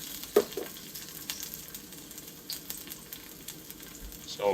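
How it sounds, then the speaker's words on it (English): Chopped ginger and garlic sizzle in peanut oil in a wok during a quick stir-fry. The hiss is soft and steady, broken by a few scraping stirs and clinks of the utensil. "give these aromatics a quick stir fry"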